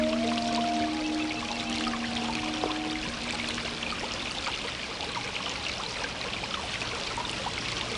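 Flowing stream water in a swamp, a continuous close rush and trickle that stays steady throughout, with a brief faint tonal hum early on.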